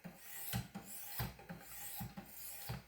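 A knife blade sharpened on a Wicked Edge 1000 grit stone: close, soft rasping strokes repeat in a steady rhythm, about five scrapes over three seconds, with no talking.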